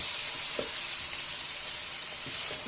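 Lamb shanks and spices cooking in oil in a pot, a steady soft sizzle and hiss throughout with a few faint stirring knocks, close and even.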